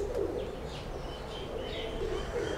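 Pigeons cooing steadily in a pigeon-fancier's loft, a low continuous murmur of several birds with faint chirps and rustles mixed in.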